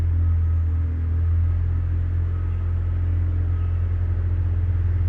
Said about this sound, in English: now this truck's following me